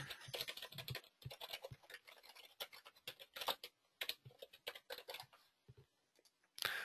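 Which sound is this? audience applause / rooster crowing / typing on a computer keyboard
typing on a computer keyboard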